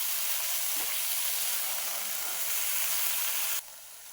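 Apple pieces frying in ghee for halwa give a steady, close sizzle with soft crackle that runs evenly, then drops sharply quieter near the end.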